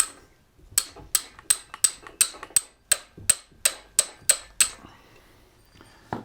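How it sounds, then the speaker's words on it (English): Sharp metallic hammer strikes on a stuck bolt of a blown engine ring out about a dozen times in a steady rhythm, each blow clanging brightly and decaying quickly. "Let's do a little poor man's impact hammer here."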